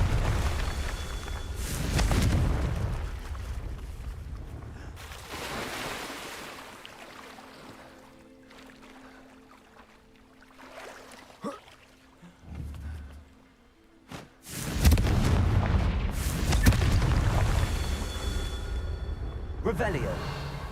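Explosive bursts from Confringo fire spells in the Hogwarts Legacy video game, several heavy booms with rumbling, crackling tails separated by quieter stretches, including a loud blast near the end, with a player speaking in between.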